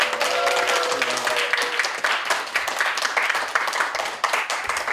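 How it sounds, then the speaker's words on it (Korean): Church congregation clapping at a New Year revival service, a dense burst of many hands that continues steadily, with a brief sustained tone and faint voices early on. "우리 모두들 박수로 하나님께 영광을 드립니다."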